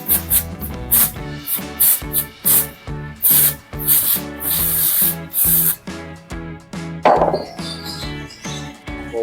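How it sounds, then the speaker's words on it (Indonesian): Carburetor cleaner sprayed onto a Vespa shock absorber to cool it, a string of short sharp hissing bursts in an uneven rhythm, close and loud over a background of music. "Kalau lo mau cepet dingin, lo boleh pakai karburator cleaner buat ngedingininnya."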